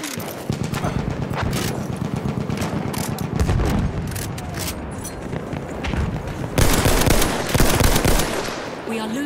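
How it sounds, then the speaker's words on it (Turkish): Sustained bursts of rapid machine gun fire from a video game, loud and dense with overlapping shots and booms throughout, intensifying near the end; faint voices sit underneath. "Orada bir makinalı tüfek var."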